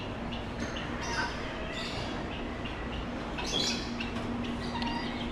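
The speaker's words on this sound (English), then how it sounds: "Even more birds." Birds at a bird farm that keeps pigeons and doves give scattered chirps and calls over a constant background hum, with no talk.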